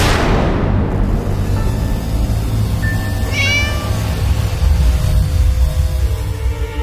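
A cat meows once, a clear rising-then-falling cry near the middle, over a steady low rumble of background noise.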